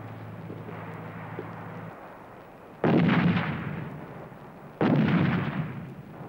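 Two heavy booms from M109 self-propelled howitzers firing, each a sudden loud blast decaying into a rolling echo, spaced about two seconds apart over a low idling engine hum.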